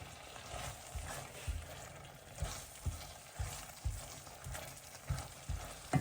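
Cubes of beef fry in a pan with a constant close sizzle, broken by regular soft thumps from stirring or tossing. No voices are heard.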